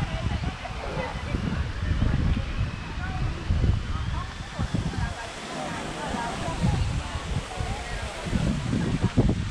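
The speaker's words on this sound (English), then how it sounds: "Quite windy today." Gusty wind buffets the microphone in an old town square with a fountain, low rumbling bursts rising and falling continuously, with faint distant street ambience beneath.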